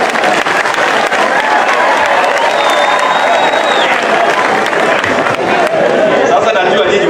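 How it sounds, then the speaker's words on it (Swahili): A large crowd of university students at a lecture breaks into loud, sustained applause mixed with cheering and chatter, with voices heard through the clapping. "Pigia mtu kwa kiara makofi"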